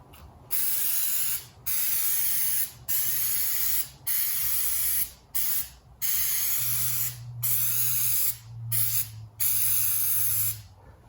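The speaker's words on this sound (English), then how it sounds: "I'm gonna take some of this tar and sap remover and just kind of spray it on" Repeated hissing bursts of tar and sap remover sprayed from an aerosol can onto a car, about nine short blasts separated by brief pauses, close and fairly loud, with no voices.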